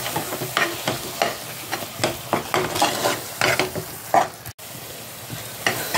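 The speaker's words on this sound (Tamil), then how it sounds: "அப்புறம் 4 தக்காளியை மிக்சியில் அரைச்சி வச்சுருக்கேன். அதையும் ஊற்றி கொஞ்ச நேரம் பொரிய விட்டுடலாம்." Ground tomato puree frying with spices in a pan for a crab curry, a loud close sizzle broken by rhythmic scraping strokes of a spatula stirring, with a brief gap near the end.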